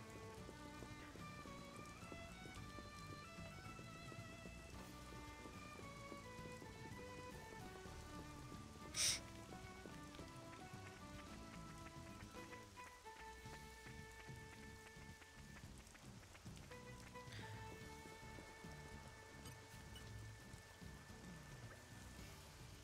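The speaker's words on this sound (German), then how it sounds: "Regnet doch genug." Steady rainfall in the video game Xenoblade Chronicles 2, a faint, continuous patter running the whole way under melodic in-game music with one brief sharp accent midway.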